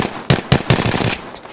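Automatic gunfire in a video game, several rapid loud bursts in quick succession, close and punchy, with short gaps between them.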